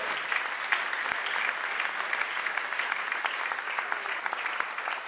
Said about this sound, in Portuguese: A Ele merece uma salva de palmas